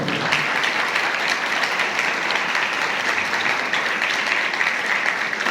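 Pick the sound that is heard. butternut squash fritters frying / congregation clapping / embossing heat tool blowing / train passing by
congregation clapping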